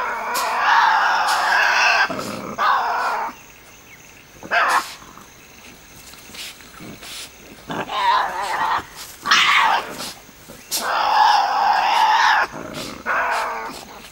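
Tasmanian devils growling in the wild, loud harsh rasping growls and snarls in repeated bursts with short pauses between, close and alone without talk.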